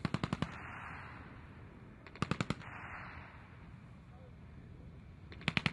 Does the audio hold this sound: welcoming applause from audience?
no